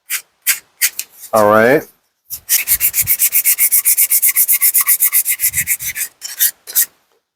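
Sandpaper is rubbed by hand along the edges of a wooden toy Ford Model A, giving close, rhythmic rasping strokes in a fast steady run, with a brief squeak and a few words spoken.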